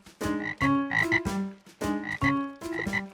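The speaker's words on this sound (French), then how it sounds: "Des grenouilles." Cartoon frogs croak in a steady rhythm, a series of loud, close, bouncy croaks in quick repeated bursts with no talking over them.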